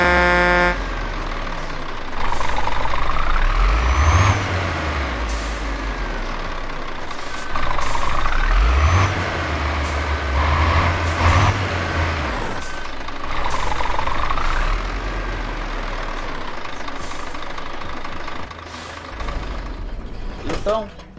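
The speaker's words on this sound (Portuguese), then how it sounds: "é um som do EVR, um molde de som gratuito aí que tem para o ETS2, para as Scanias do RJL" A Scania truck in Euro Truck Simulator 2 running a free EVR engine sound mod roars through repeated rev cycles, deep engine rumble rising and falling in steady waves, loud and close.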